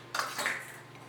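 A quarter pound of butter is cut into crumble mix in a bowl for rhubarb and apple crumble, two quick close scraping taps of a utensil against the dish, then fading.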